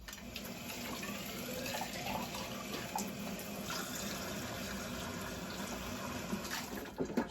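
Water runs steadily, rinsing a siphon tube being cleaned with sanitizing liquid at a home distilling setup with a Grainfather boiler, a continuous splashing flow at close range with no talking.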